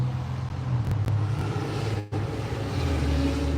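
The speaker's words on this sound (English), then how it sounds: "Got a loud car or something coming through." A big truck rumbles past nearby, a steady low engine drone holding throughout with a brief dip partway, no talking over it.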